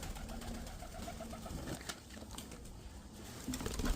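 Soft pigeon cooing at a moderate distance, low repeated coos over a murky background hum.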